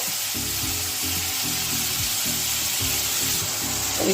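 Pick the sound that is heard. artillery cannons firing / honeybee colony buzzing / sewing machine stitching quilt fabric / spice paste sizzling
spice paste sizzling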